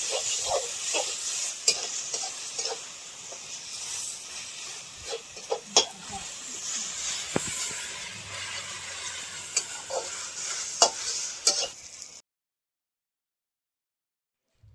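Fried rice with vegetables and sauces, including soy sauce, stir-fries in a pan on a clay stove, with continuous bright sizzling and frequent spatula scrapes and clacks close by, then cuts to silence near the end.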